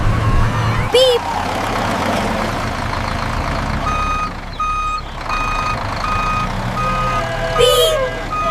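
Steady high-pitched reversing beeps repeat at an even pace over a loud truck engine rumble in a children's cartoon, with occasional sharp squeaks.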